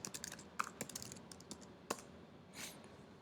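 Quiet clicks of a computer keyboard as a command is typed, a few irregular keystrokes spread over a few seconds, close and faint, with no talking.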